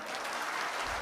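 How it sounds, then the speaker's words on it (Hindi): Audience applause at a Shreemad Bhagwat Katha religious gathering in a Hindu temple in the UK, a dense, steady wash of many hands clapping together, close and even throughout without pause. "ताली बजा दो।"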